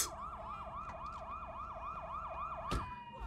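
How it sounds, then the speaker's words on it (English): Police-style sirens wail in the video game Sleeping Dogs, a rapid rising-and-falling yelp repeating steadily for several seconds at moderate level, ending with a brief sharp crash and a lingering tone. "Oh my, do you not hear the sirens?"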